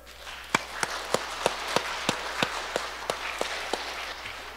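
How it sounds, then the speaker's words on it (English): Children at a school Mass clap for the ushers, a steady run of about a dozen crisp, evenly spaced claps over a soft hiss of murmuring room noise, fairly faint and without speech. "Can we clap for them?"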